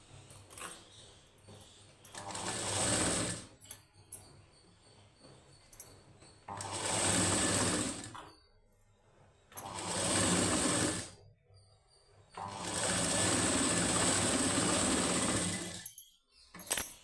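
A sewing machine stitching the high neck of a plain blouse, running in several loud, steady bursts of a few seconds each, separated by short pauses and near silence, close to the machine.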